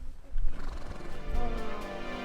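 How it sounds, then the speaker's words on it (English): Horses at high altitude near Cotopaxi, Ecuador, give a rough, fairly close neigh, alone among the herd's low background noise. "we stumbled upon a bunch of horses"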